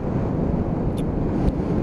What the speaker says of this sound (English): Oh god, that is windy as well.